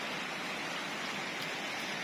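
Steady, dense hiss of heavy rain pouring down in Bang Khae, flooding the area, a constant broadband wash with no pauses and no voices.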